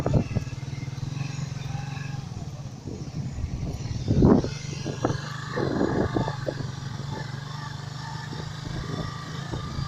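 A motorcycle rides a rough, broken road in Ewulu, Delta State, its engine a steady mid-distance drone with bumps and rattles rising around the middle.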